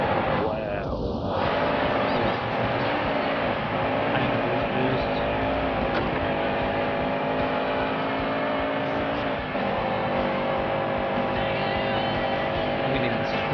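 Cars racing in The Grand Tour Game, with steady engine drone and revving throughout, heard under a player talking over the gameplay.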